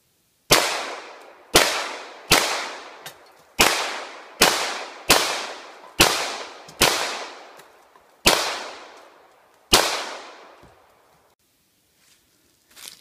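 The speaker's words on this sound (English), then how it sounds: "But I want to do some shooting." Ten sharp shots from an M&P Pro CORE 9mm pistol ring out one at a time at a steady, fairly quick pace, each with a long decaying echo. No voices.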